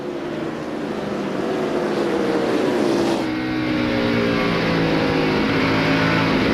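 NASCAR stock cars racing at Bristol in the 2001 Sharpie 500, a loud continuous engine roar with a sustained droning pitch that shifts partway through as cars pass.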